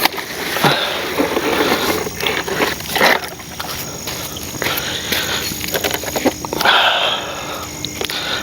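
The motor of an Avios Albatros V2 RC seaplane runs while it sits on the water, giving a steady thin whine over a windy, breezy outdoor background with occasional surges.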